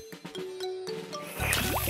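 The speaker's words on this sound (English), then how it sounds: "I pump the handle like this." A cartoon hand pump in a garden, worked by its handle to water flowers, gives a few squeaky creaks and then a louder burst of gurgling, splashing water near the end, with no talking.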